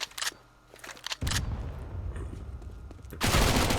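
SMG gunfire in Counter-Strike: Global Offensive during a competitive match: a few short bursts early on, then a long sustained stretch of rapid automatic fire that grows heaviest at the end, loud and close.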